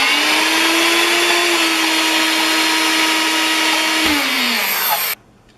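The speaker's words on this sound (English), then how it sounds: "I will get the riced cauliflower out of my blender before reloading." A blender grinds cauliflower into rice, a loud steady whir with a fine gritty texture that runs for about five seconds, dips slightly in pitch as it winds down, then cuts off abruptly into quiet.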